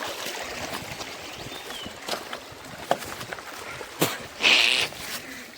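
A stream at Hoovina Kolla near Ramdurg flows with a soft, continuous trickle and rush nearby, broken by a few sharper splashes or knocks, with no talking.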